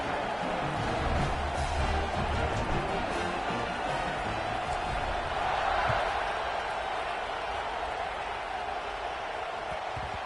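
Dense football stadium crowd roaring and cheering after a long touchdown drive, a continuous loud wash of voices that swells slightly midway, with no clear single speaker on top.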